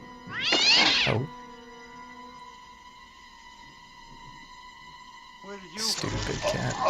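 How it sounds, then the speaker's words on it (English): A cat gives a loud, drawn-out meow, then a long pause filled by sustained humming tones, then a second strained, rising meow at the end. "Stupid cat."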